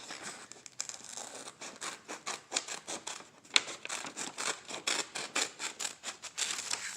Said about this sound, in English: we use our scissors to cut there.